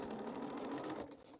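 A sewing machine runs in one quick, steady burst while stitching small quilt pieces, close and fairly quiet, then stops abruptly.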